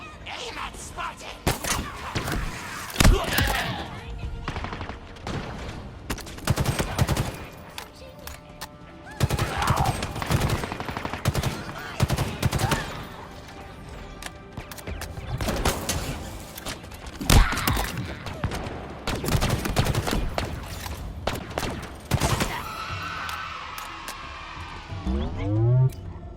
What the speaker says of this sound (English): And you get to shoot and fight aliens.